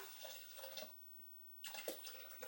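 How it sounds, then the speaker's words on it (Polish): Water poured into a Thermomix bowl, 400 g measured out, as a steady splashing pour that stops for a moment in the middle and then resumes, close by with no talking. "400 g wody wlewamy do naszego naczynia"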